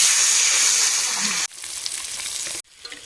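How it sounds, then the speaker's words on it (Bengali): Salt and turmeric coated amudi fish hiss loudly in hot, smoking oil, a close, steady sizzle broken by two brief cuts. "এবারে মাখিয়ে রাখা নুন হলুদ মাছগুলো দিয়ে দেবো"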